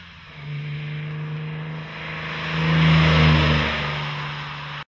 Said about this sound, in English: when the powerful motor is started